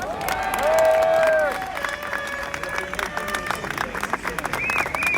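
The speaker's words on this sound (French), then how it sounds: "Je vous demande de l'applaudir très fort." A crowd at a police demonstration outside the National Assembly applauds a rapper, clapping and cheering mixed with loud overlapping voices and shouts throughout.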